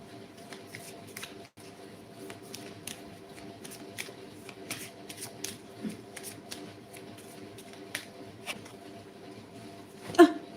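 Tarot cards shuffled by hand in a steady run of soft riffling flicks and slaps, close and fairly quiet, ending with a louder fumble as the deck nearly slips.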